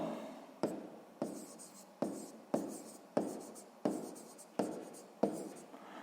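A pen writing on paper during a sixth-grade maths exercise, close and quiet, in a steady series of short scratchy strokes, each starting sharply and fading, about nine in six seconds with no talk.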